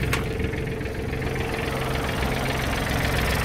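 An ISEKI TK29FF tractor engine runs with its air conditioner on, giving a steady, close, continuous drone with a faint mechanical rattle and no talking.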